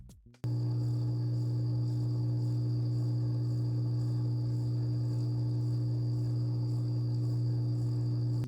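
A steady low electric hum drones without a break after a brief click at the start, an even mechanical buzz with a faint higher whine above it, from a GEX Slim Filter hang-on aquarium filter at minimum flow.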